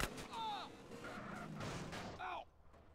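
Gunfire in the video game GTA San Andreas sounds as a rapid series of sharp, punchy bursts, mixed with in-game voices talking and fading out at the end.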